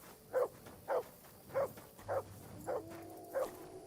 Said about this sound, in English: Te is hallod ezt? Azok a kutyák.